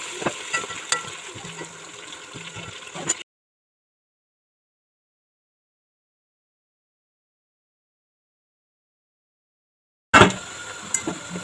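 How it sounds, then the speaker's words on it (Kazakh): Meat sizzles and crackles in a hot pan for kazan kebab, broken by a long stretch of silence before the frying resumes. "Енді етімізді қуырып аламыз."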